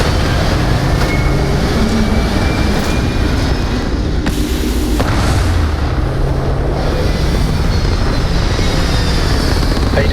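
A spaceship lifts off in Starfield with a loud, dense engine roar that stays constant throughout, broad rumbling thrust with a brief shift partway through.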